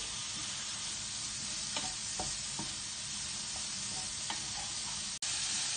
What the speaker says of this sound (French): ma soeur va préparer les lardons, les faire poêler